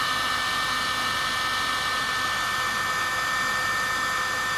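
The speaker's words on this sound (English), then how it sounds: "Now you get your heat gun and you just heat gun up the" A heat gun blows hot air onto silicone-filled heat shrink tubing for a light strip, giving a constant, loud, even airflow hiss with no change in level and no voices.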